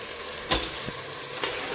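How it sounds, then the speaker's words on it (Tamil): Cut brinjal and potato sautéing in oil, a moderate sizzle with two distinct spatula scrapes against the pan, no one speaking. "சேர்த்துட்டு இப்போ கட் பண்ணி வச்ச கத்திரிக்காய், உருளைக்கிழங்கு எல்லாம் சேர்த்துக்க போகிறேன்"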